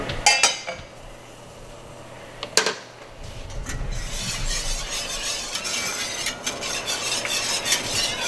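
Noodles stirred in a pot for gourmet Gouda mac and cheese, a steady scraping and swishing with a few sharper clinks of the utensil against the pot, close and continuous without talk.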